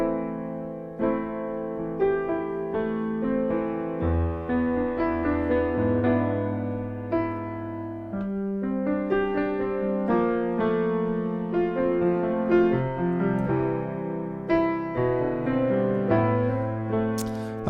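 Piano plays the acoustic guitar intro of a song, with flowing arpeggiated chords and a low bass line moving steadily for the whole stretch, close and unaccompanied by voices.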